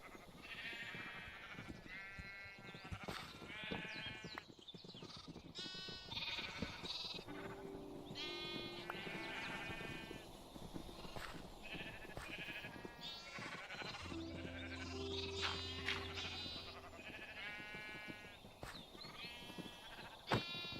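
Several sheep in Minecraft bleat repeatedly over about twenty seconds, short harmonic baas coming near and overlapping with a low steady game hum beneath them, with no talking.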